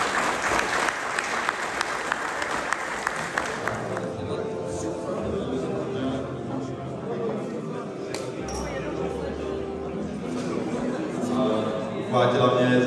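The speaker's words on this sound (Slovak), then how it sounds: "Takže potlesk vám všem." Crowd applause at a motorcycle meetup rings out loud and dense for about four seconds, then breaks off into a low background murmur and scattered outdoor noise.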